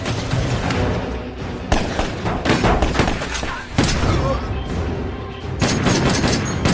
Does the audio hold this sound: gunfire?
yes